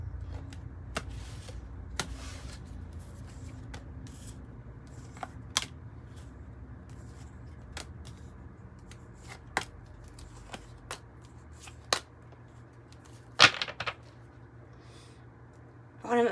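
A deck of tarot cards is cut and shuffled close by, giving soft riffling and sharp intermittent card snaps and taps over a low quiet background hum, with no talking.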